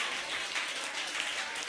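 A church congregation applauding together, a steady wash of dense clapping that holds evenly through the short stretch with no clear pauses.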